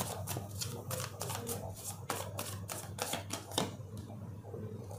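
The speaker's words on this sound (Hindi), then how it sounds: "ओके, मैं एक बार सारे कार्ड्स निकाल लेती हूँ" Tarot cards are drawn and laid out one after another, a faint run of quick papery flicks and taps, close and quiet, in steady bursts.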